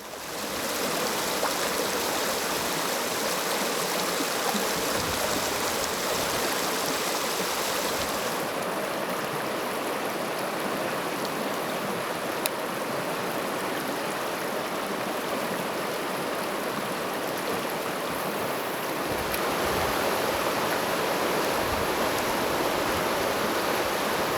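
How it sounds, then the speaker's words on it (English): Staunton River below Alta Vista flowing steadily during a wade, a broad continuous rushing wash of water close by, unbroken for the whole stretch with no voices. "the sounds of a floating wade on the Staunton River below Alta Vista"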